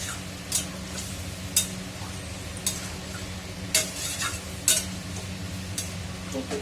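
Potatoes sizzle steadily in a wok while a metal spatula stirs them, scraping and clinking against the pan about once a second, close and clear with no talking.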